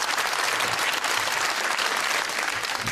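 A comedy duo's stage audience bursts into dense, sustained applause that fills the room evenly from start to finish, loud and unbroken with no voices on top.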